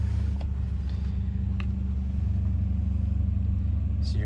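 A 2010 Honda Odyssey EX-L minivan idles with a steady, low engine rumble that stays even throughout, accompanied by a few faint clicks inside the cabin.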